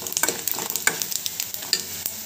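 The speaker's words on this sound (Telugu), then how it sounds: "కొంచెం ధనియాలు వేసుకోండి. ఇది కూడా బాగా వేగనివ్వండి." Coriander seeds frying in a pan for a peanut chutney, with a steady close sizzle broken by quick scraping stirs and small crackling pops.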